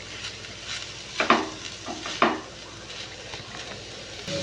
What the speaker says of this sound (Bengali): এবার এটা আমি গরম মশলাটা দিয়ে নেড়ে এটা বন্ধ করে দেবো